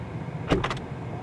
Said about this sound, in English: It has automatic opening and closing doors